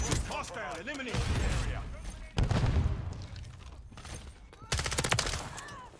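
HRM-9 submachine gun in Modern Warfare 3, rapid bursts of close automatic fire in three clusters, with a voice talking over them.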